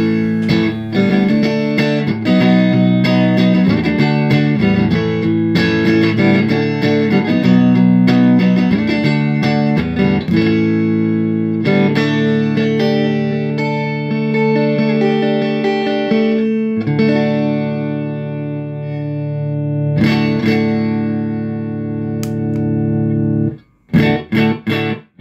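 An electric guitar played through an MXR Micro Amp clean boost pedal, with loud, slightly driven chords and lead phrases that sustain and ring, then end in a few short stabs.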